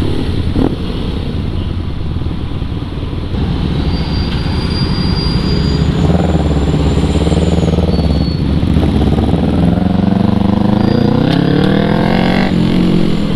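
A BMW R nineT motorcycle on a group big-bike ride near Tagaytay gives a loud, continuous engine drone with wind rush, its pitch rising and falling as it accelerates, heard close and with no talk.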